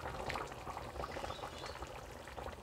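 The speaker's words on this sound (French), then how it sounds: "je rajoute encore de l'eau" Water streams into a tajine of chicken with olives over a medium flame, a soft continuous pouring and bubbling that stays quiet and close for a couple of seconds.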